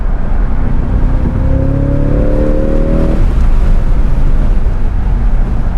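A Cadillac CT5-V Blackwing accelerating hard on a race track, its engine note climbing steadily in pitch for about two seconds before cutting off, loud and close over constant road and wind roar.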